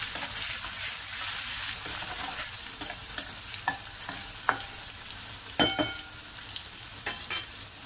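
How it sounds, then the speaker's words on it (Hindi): Crushed garlic and green chilies frying in oil give a steady, moderate sizzle, punctuated by occasional clicks and scrapes of a spoon stirring the pan. "अब लहसुन को अच्छे से फ्राई कर लेंगे।"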